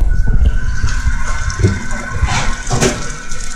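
Boiled water is poured into a pot for salmon head sinigang broth, giving a continuous splashing, gurgling flow that stays loud and close for the whole stretch.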